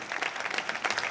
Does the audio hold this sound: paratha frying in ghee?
no